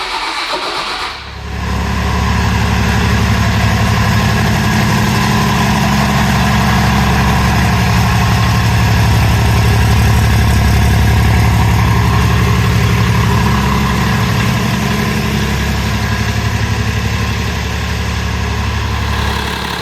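A 2007 Ram truck engine idles steadily at break-in, running with no coolant, after a brief quiet moment at the start; the loud, even low rumble continues without pause and no one speaks.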